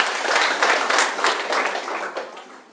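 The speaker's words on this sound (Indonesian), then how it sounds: "tepuk tangan dong kalau itu benar" Audience applause at an Indonesian presentation, a dense wash of clapping that swells and fades over a few seconds, fairly close and without talk over it.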